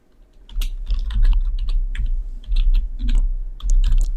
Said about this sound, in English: So I'll type in HR.